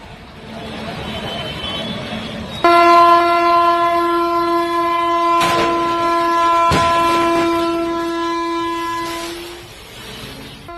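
A train at an open railway level crossing in Asansol sounds a long, loud multi-tone horn blast that holds for several seconds over rumbling wheels and rail noise, with a few sharp clanks partway through.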